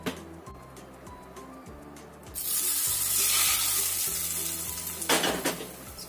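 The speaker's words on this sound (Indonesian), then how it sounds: "Setelah benar-benar panas atau mendidih, kita matikan apinya. Kita siramkan ke atas sambelnya." Hot oil poured over chili sambal sizzles suddenly and loudly after a quiet kitchen stretch, a bright crackling hiss that flares again near the end.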